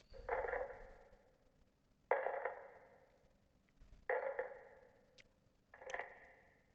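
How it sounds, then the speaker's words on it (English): Dirt thrown onto a coffin lid from the Kentucky Route Zero game: four separate thudding, scattering impacts at even intervals, each trailing off in a gritty rustle. "That was dirt being thrown on the lid of a coffin."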